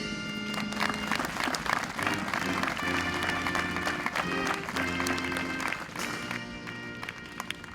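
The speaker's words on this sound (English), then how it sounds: "Please join me in a well-deserved round of applause for the Warriors on the field and the Signal Corps." An outdoor audience applauds at an Army battalion change of command ceremony, a dense, sustained round of clapping at moderate distance with music or tones underneath and no speech.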